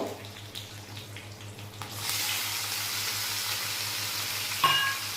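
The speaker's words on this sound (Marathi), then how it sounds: "टोमॅटो छान परतून घ्यायचा आहे" Chopped tomato sautéing in a pan with cumin, mustard seeds, garlic cloves and curry leaves: a quiet start, then a steady, rising sizzle and a brief sharp clink near the end.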